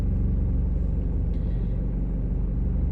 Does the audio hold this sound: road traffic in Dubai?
yes